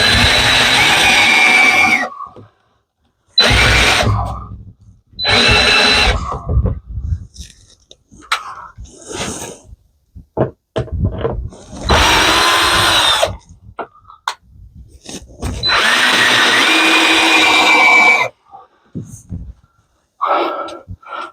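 A power drill drives screws into shed framing, loud and close, in a series of short and longer bursts separated by silences, with brief talk scattered between.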